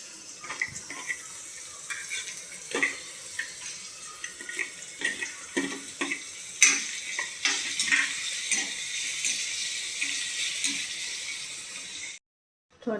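Onion dropped into hot oil with browned garlic in a home kitchen pan for a quick cluster bean stir-fry, a steady close hiss of frying with scattered crackles and pops throughout, then a sudden cut to silence near the end.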